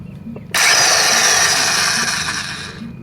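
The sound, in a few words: power tool running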